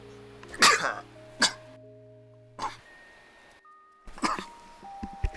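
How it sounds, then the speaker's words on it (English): A person sneezes several times in a row, with four sharp bursts spaced over a few seconds. A few faint steady tones hum in the background. "Very nice treat of me that I sneeze more than once."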